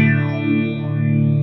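An electric guitar played through an amp with a dreamy chorus effect lets a single chord ring out steadily with a shimmering, wavering sustain, loud and alone.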